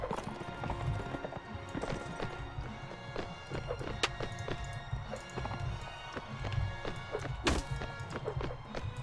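A horse gallops in the medieval combat game Mount and Blade Warband, rapid rhythmic hoofbeats thudding close with clashes of battle and occasional neighs over a busy background.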